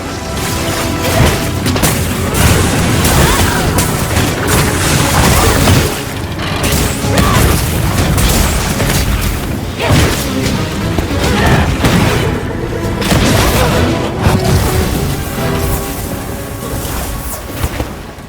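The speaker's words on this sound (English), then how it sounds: "This guy just did like a cannon drill." Loud, continuous booms and crashing blasts from a cannon drill in Monster Hunter Wilds, dense and rumbling throughout with no pauses and no talking.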